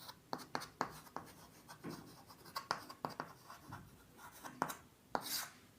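Marker or chalk writing on a board during a class 9 physics lesson: a run of quick, soft strokes and taps at close range, fairly faint, with no speech over it.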